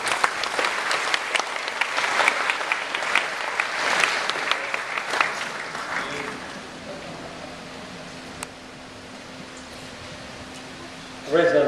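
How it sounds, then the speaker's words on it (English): An audience at a community fire service briefing claps for volunteer firefighters. Dense applause lasts about six seconds and then fades, leaving a steady hum, with a voice returning at the end. "Give them a round of applause."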